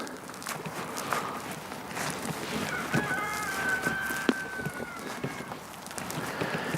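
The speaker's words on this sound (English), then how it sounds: "you can hear the neighbors' roosters over there crowing" Neighbors' roosters crow in the distance, long drawn-out calls rising over outdoor background noise and footsteps nearby.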